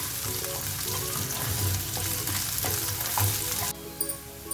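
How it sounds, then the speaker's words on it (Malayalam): Ginger, green chili and dried red chili sautéed in a pan for Kerala corn uppumavu, a close continuous sizzle with spoon scrapes and stirring, easing to quieter crackles near the end. "അതിലേക്ക് ഇഞ്ചി, പച്ചമുളക്, വറ്റൽമുളക് ഇട്ട് ഒന്നുകൂടി ഒന്ന് വഴറ്റിയെടുക്കാം"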